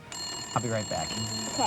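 A telephone rings with a steady, high electronic tone that runs through the whole moment, sitting under a person speaking a couple of short lines in a cartoon household scene.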